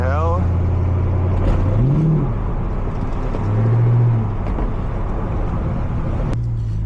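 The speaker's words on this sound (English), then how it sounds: "Yo, his car is so loud." A car at a night car meet rumbles loudly nearby, its engine droning steadily and rising in two brief swells, with people talking over it.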